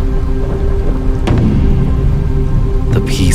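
Steady rain pours down as a dense, loud hiss, with a couple of sharper crackling bursts breaking through the continuous wash of sound.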